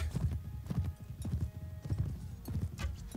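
Horse hooves clatter in quick galloping bursts in the Mount & Blade: Warband video game, close and loud, with a horse's neigh mixed in among the battle noise.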